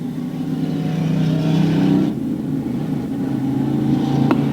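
Race cars roaring around the track at the 1991 Gasport race, a steady loud engine drone with harmonic whine swelling and dipping as the cars pass, an announcer's voice faintly underneath.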